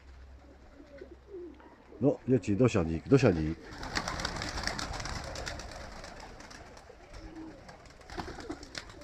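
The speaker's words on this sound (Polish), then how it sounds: "gołębie latają normalnie" Pigeons coo in a soft, low rhythmic series close by, after a person speaks briefly at the start.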